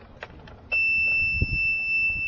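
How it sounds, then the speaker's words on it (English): Warning buzzer on a boat's engine instrument panel sounds as the key is turned, a steady high-pitched continuous tone starting abruptly and holding loud, with faint handling noises around it. "you can see that they do in fact alarm and light up"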